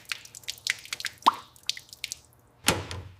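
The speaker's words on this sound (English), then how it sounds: "Degreaser turns oily buildup into dark sludge that drips away slowly." Dark degreaser sludge drips off the parts of a 1963 Bentley S3 Continental during restoration. Close, irregular wet drips and plops fall at varying pace, with one heavier splat near the end.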